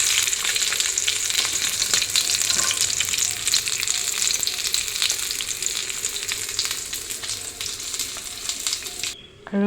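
Fish frying in a pan for a sour fish curry, a steady dense sizzle with crackling spits running close and loud throughout, cutting off briefly near the end.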